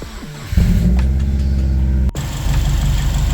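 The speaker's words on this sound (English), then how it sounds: "She is running, she's purring. I think engine's happy with the new radiator." A 2008 Subaru Forester XT with a manual transmission and a newly fitted radiator starts and runs, settling into a steady, close idle rumble with a brief dip partway through.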